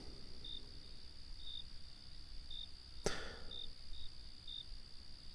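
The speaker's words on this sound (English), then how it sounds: "The crickets aren't too loud." Crickets chirp at a steady pace, about once a second, over a thin constant high-pitched drone. A single sharp click breaks in midway.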